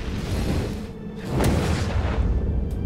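A Fire Nova spell explosion in the video game Lichdom: Battlemage, a deep rumbling boom with a sharp burst near the middle, then a sustained low roar fading slightly at the end.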